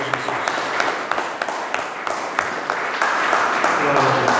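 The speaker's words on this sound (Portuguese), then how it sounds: "Você pode aplaudir o nosso Deus." A church congregation claps in praise, with sharp individual claps rising out of a steady wash of applause, while voices speak over it.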